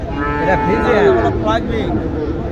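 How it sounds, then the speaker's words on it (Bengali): A cow moos loudly and close by at a cattle market, a single drawn-out low call lasting a couple of seconds with a wavering pitch. "এইটা কি জাতের গরু ভাই"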